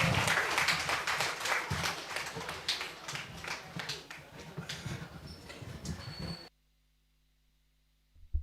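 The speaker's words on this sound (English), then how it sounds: "Please give him a round of applause." An audience applauds at a 2025 secondary school graduation ceremony in Carriacou, with dense, steady clapping for about six seconds that then cuts off to near silence.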